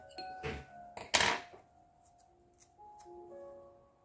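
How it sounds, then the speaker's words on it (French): Scissors cutting low-quality washi tape: a couple of close, crisp snips near the start, then light handling taps and faint rustling in a quiet room. "Je vais prendre des ciseaux."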